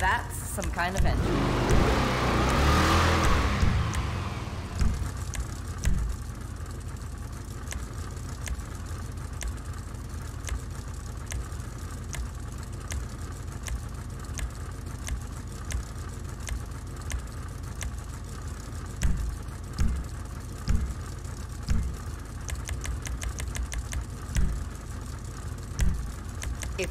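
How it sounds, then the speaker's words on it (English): Vapid Ratel car engine in a video game, a low idling rumble with a louder rev burst at the start, then a steady hum with small pulses under music or effects. "Now that's some kind of engine."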